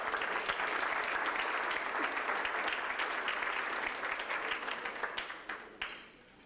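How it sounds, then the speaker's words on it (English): A conference audience applauds in a continuous, even wash of clapping that holds steady, then tapers and fades out over the final second. "we'll go on with a round of applause for Billie Jean"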